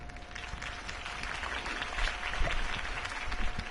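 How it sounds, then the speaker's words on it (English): Crowd applause greets Harvey Dent's campaign speech in the Batman Telltale video game, a dense, steady wash of clapping from a large audience that swells slightly toward the end, with no voices over it. "If only Mr. Wayne, my campaign's largest backer, could have heard that applause"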